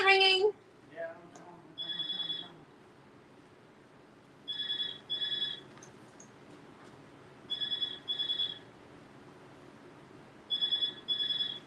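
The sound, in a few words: telephone ringing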